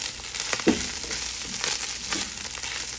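Sirloin steak with herbs being stirred in a hot frying pan, a steady close sizzle with a few scraping stirs of the utensil across the pan.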